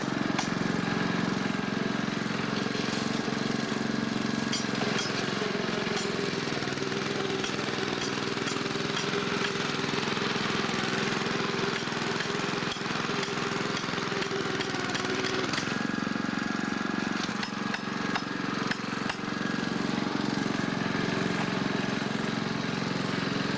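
A 1950 Simplicity tractor's small engine chugs continuously as it works filling in holes beside a railroad, a steady close mechanical drone with a brief dip midway.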